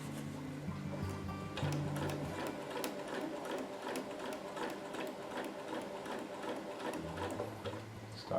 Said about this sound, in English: kind of get into the rhythm of the machine